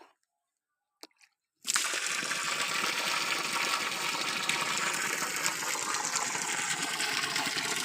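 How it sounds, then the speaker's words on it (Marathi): Water gushes out steadily and loudly from a hose pipe in a backyard garden after a brief quiet start with a couple of small knocks, a continuous rushing splash close by. "ह्याला पाणी सोडते"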